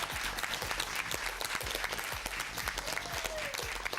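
Audience applause at a quiz competition, following a call to honour the coach and judge; steady, dense clapping fills the whole stretch with a few low thumps and a faint voice underneath.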